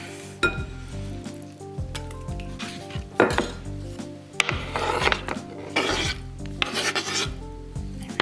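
Tofu being stirred together with minced ginger, soy sauce and rice vinegar in a dish, giving close scraping, rubbing and clinking of a utensil against the bowl in uneven bursts, with no talking.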